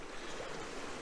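Waves breaking on the shore at Elgol on Skye, heard as a steady, fairly loud wash of surf and water noise throughout the short stretch, with no voices.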